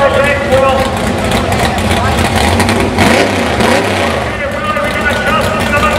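A 1970 Camaro with a big-block engine revs loudly at a drag race, a dense continuous roar filling the scene while a commentator talks over it.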